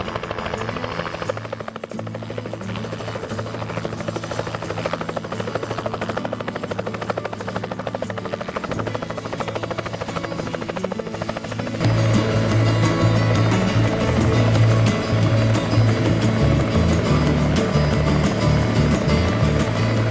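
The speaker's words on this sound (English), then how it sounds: "We can hear the helicopter in the distance" A helicopter's steady rotor thrum and engine whine, flying low over water in fog by the Beaufort Sea, Yukon, growing louder partway through as it draws nearer, with wind noise around it and no voices.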